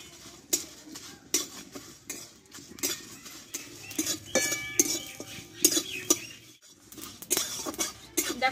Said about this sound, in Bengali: দিয়ে এবার ভালোভাবে একটু নাড়াচাড়া করে আমি ভেজে নেব।